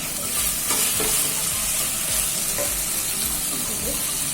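Tomatoes and fried chicken go into a hot pan for pepper chicken curry, loud continuous sizzling with repeated scraping stir strokes and knocks of the utensil, close and without talk.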